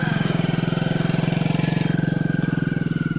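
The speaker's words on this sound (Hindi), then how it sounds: "तो देख सकते हैं संदीप बाइक को मतलब लेफ्ट साइड कर रहा है, लगा रहा है" A motorbike engine idles close by, a loud, steady, rapid thumping pulse that keeps an even rhythm throughout.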